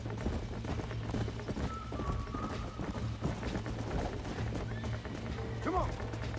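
Horse hooves clip-clop in Red Dead Redemption, a steady rhythmic pounding heard over game music and ambience, with a brief whinny near the end and occasional speech.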